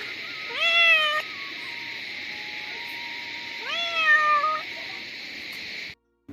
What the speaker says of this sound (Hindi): यहाँ मुझे रास्ते मिल गई बिल्ली।